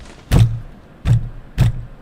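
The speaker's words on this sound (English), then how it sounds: "Knee clicking. I'm clicking with my knee." A computer mouse pressed with a knee gives three dull, heavy clicks about a second apart, each a short thump close up, in a quiet room.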